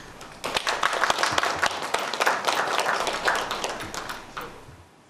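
An audience at a live televised forum on business taxation and economic recovery breaks into applause to welcome a professor to the podium, a crisp burst of many hands that builds quickly, holds steady, then thins out and fades.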